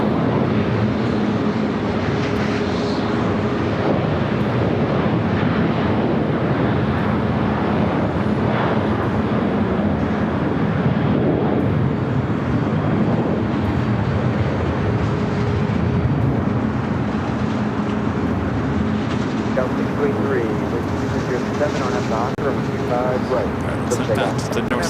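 An Emirates Airbus A380 on short final at LAX produces a continuous broad jet roar, steady and fairly loud across the whole stretch, with wind buffeting and voices talking over it.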